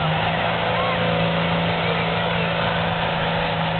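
A Deutz Fahr drag tractor revs hard during a tractor pull final at Great Eccleston, a steady loud engine roar with a constant drone throughout, and a commentator's voice running over it.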